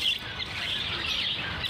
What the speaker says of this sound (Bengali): আর এরকম বৃষ্টির ওয়েদারে কত অ্যাক্টিভ পাখি